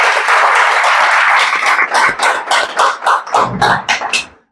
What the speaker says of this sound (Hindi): मैं चाहूंगा इनके लिए भी एक बार तालियां हो